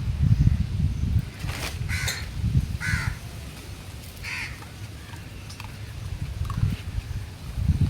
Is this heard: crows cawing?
yes